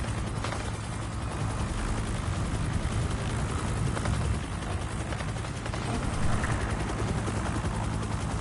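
Chopper rotors thrum in the video game Predator: Hunting Grounds, a steady, dense mechanical drone that holds at an even level throughout, with no voices over it.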